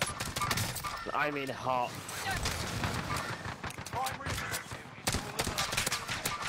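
Gunfire in the video game Call of Duty Warzone, sharp irregular shots cracking out in scattered bursts, mixed with game sounds and a brief honking tone while a voice speaks.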